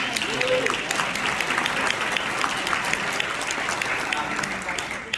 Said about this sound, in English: A nice round of applause for everyone.